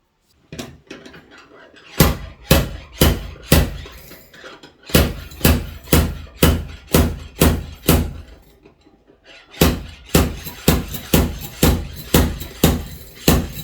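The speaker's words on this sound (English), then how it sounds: "pull that one out with the slide hammer" Slide hammer pulling a dent on an Amarok V6, sharp metallic clanks in rapid rhythmic bursts of about five to seven strikes, close and loud, with short pauses between the series.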